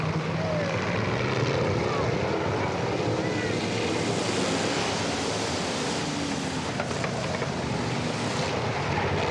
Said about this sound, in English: the mighty engine monsters, the unlimited CC, Chevrolets, Pontiacs and Jaguar engines underneath these special bodies